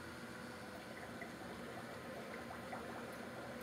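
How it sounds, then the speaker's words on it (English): Faint, steady bubbling and gurgling of air pumped out through the intake tube of a Los Angeles Class 688i model submarine under water, a continuous low wash with no voices. "it'll start pumping air out of the intake tube, and you could just keep doing that if you're amused by looking at bubbles"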